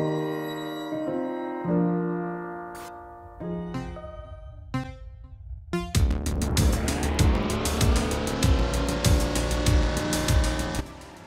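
A racing car engine revs and shifts in the retro 8-bit and 16-bit styled 2D racing game Peak Speed, built in Dreams, with rising whines, then sustained loud engine roar and repeated tire squeals.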